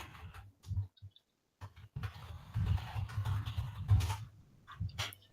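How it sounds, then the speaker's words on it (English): Someone types on an improvised keyboard setup away from a proper desk, producing bursts of quiet close clicks and taps separated by short pauses, with faint muffled background noise. "I'm just typing"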